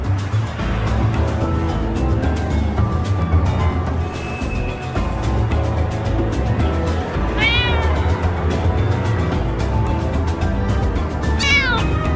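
Cats in the adventure game Nick Bounty meow repeatedly over a busy, steady background of game sound, with a couple of sharp rising meows standing out near the end.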